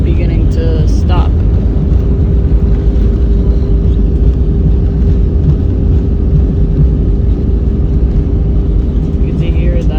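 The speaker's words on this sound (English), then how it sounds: "Reverses are deploying. Full speed. With reverse thrust." Airbus A320 reverse thrust during landing rollout, a loud continuous low engine roar with a steady hum filling the whole stretch, heard from inside the cabin.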